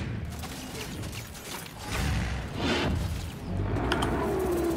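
Giant engine machinery rumbles and grinds in the Gears 5 video game: a loud, steady mechanical churn with creaking, ratcheting clanks and surging whooshes that swell about halfway through, with no voices.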